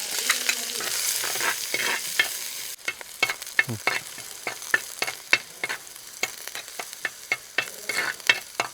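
Chopped shallots sizzle and crackle in hot oil for a Kerala-style brinjal stir fry, with a steady frying hiss broken by repeated scraping stirs in an uneven rhythm.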